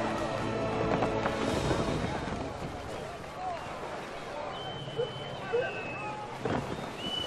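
Wind gusts and the creak and wash of a sailing ship at sea in the Assassin's Creed III video game, a steady whooshing bed with creaking tones, while a voice speaks over it.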